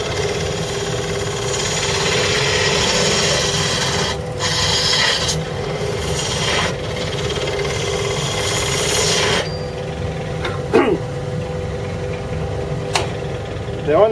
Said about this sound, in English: Quarter inch spindle gouge.